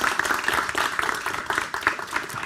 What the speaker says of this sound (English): Let's give Bogomil a big hand of applause.